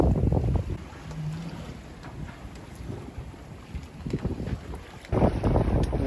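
Sailboat under way after a jibe, no dinghy in tow: wind rushing over the microphone with water swishing along the hull, gusty and uneven, with stronger buffeting at the start and end.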